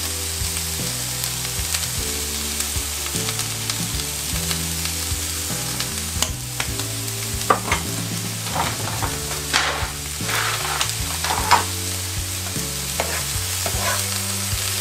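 Cabbage seasoned with vegetable seasoning fries noisily in a pan for a Christmas dinner fry-up, a dense, steady sizzle with intermittent stirring scrapes over a low, tonal background hum.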